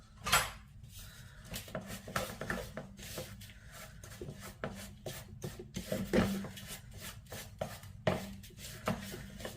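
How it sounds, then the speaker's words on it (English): Ingredients for a malted yogurt seed bread are mixed in a bowl, with irregular close scraping, rubbing and soft knocks of a utensil against the bowl and no talking. "I'm going to give it a good mix."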